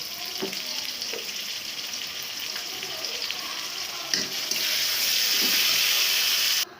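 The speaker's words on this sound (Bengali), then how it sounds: "তেলটা গরম হয়ে গেলে মশলা পেঁয়াজ মরিচ দিয়ে দেবো" Onions, chili and spice mix fry in hot oil for a chickpea and potato curry, giving a steady close sizzle that grows louder and fuller partway through, with a few faint stirring knocks.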